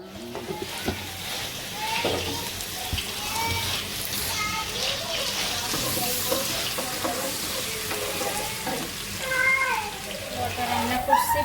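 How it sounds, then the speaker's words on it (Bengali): Onions fry and sizzle in a pan with occasional stirring scrapes, a moderate steady hiss under intermittent household talk and a cat's meows. "পেঁয়াজটা ভেজে নিচ্ছি"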